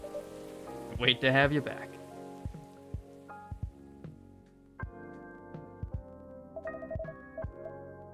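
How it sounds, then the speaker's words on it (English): Rain pattering in the coffee shop setting of the game Coffee Talk, a soft steady patter with scattered louder drops and light plinks, heard mostly alone with a brief spoken line near the start. "I think the rain is over."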